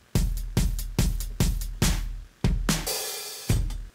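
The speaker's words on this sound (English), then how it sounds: "there's the kick snare open hi-hat. It normally sounds like this." A drum pattern of kick, snare and open hi-hat, punchy evenly spaced hits in a steady rhythm with a long open hi-hat wash near the end, dry and upfront.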